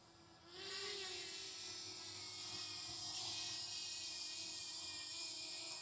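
Camera drone flying and circling overhead, a steady, faint high-pitched propeller buzz and whine that rises slightly as it nears and holds constant, heard alone.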